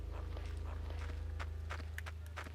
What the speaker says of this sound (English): Listen for her footsteps.